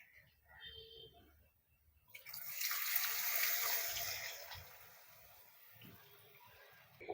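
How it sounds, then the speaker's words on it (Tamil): Soaked tamarind water being poured into a cooking masala for village-style kara kuzhambu, a steady close splashing pour that swells after a quiet start, then eases off under some low background sounds. "நம்ம இப்போ இதில் புளி தண்ணியை சேர்த்துடலாம்."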